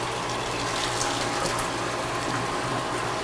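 Water flows steadily into a parallel bar grate inlet, a continuous rushing, splashing stream, loud and even throughout, with no voices.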